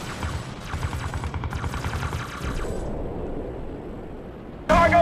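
Gunfire rattles through a Halo Wars cutscene battle, rapid bursts of automatic shots repeating for a few seconds before a heavy noisy impact near the end.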